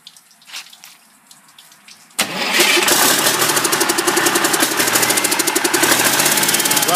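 Cummins diesel engine on a makeshift test stand cranking and catching after a couple of seconds of quiet, then settling into a loud, fast rhythmic clatter with an air compressor hissing along.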